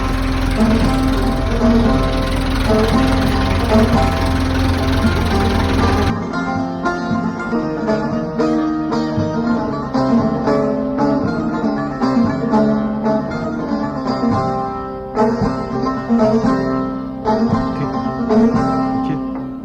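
A tractor engine runs in a village near Sivas with a steady, loud, close mechanical drone and knocking pulses; the tone shifts partway through and then continues rougher and more irregular, with no talk.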